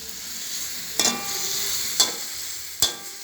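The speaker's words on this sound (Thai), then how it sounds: "คนเนาะให้เจียวมันทั่วถึง" Stir-fried noodles sizzle steadily in a hot pan while a utensil stirs and scrapes, with three sharp clanks at roughly one-second intervals over the continuous frying hiss.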